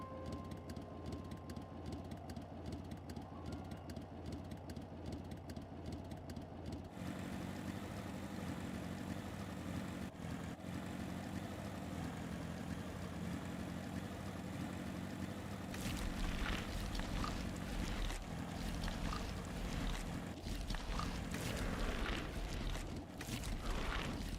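A motorcycle engine in the Final Fantasy XIV game runs continuously at a steady idle-like drone, loud and close throughout, with a denser rumble and more noise joining in the later part.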